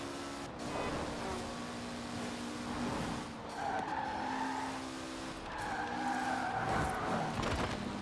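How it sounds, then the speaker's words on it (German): Car in Forza Horizon 4 driving offroad, a faint engine drone with buzzing revs and tire skid noise rising and falling over several seconds. "Burg ist aber vorbeigefahren, fährt weiter nach Norden hoch."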